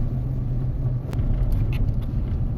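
Road traffic rumbles steadily with a car passing, a low continuous engine and tyre drone heard from nearby with no talking.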